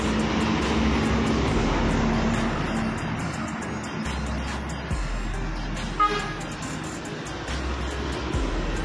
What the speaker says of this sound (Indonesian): Ini ada truk Pertamina juga.